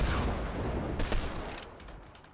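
Gunfire in the battle royale game Fortnite, a dense rattle of shots mixed with in-game noise, loud and continuous over a couple of seconds.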